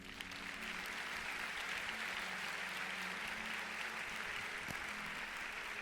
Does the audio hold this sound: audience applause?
yes